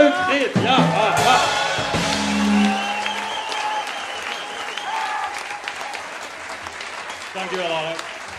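A jazz concert audience applauds the orchestra's leader with a burst of loud, dense clapping that gradually fades. Someone speaks over it and into the tail end, and a few whoops rise from the crowd.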